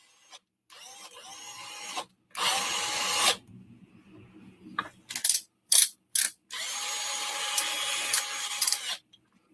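A power drill whirs in several loud, close bursts of a few seconds each, separated by short silences and quick stuttering triggers, with no talking.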